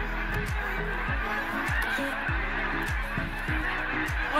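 Canada geese honk in flight as a flock prepares for migration, repeated loud nasal calls overlapping in an irregular rhythm, close and continuous with no talk.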